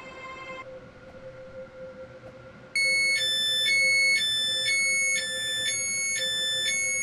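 A train pulls into a platform in the Roblox railway game SCR (Stepford County Railway), with a steady low hum and then a loud repeating electronic chime or alarm tone that starts partway through and keeps pulsing.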